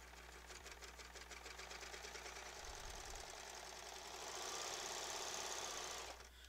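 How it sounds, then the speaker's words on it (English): A 5-thread serger stitches a test seam on fabric, close and steady, its rapid mechanical whir running nearly continuously and rising slightly in pitch and intensity before stopping. "I'll start to sew."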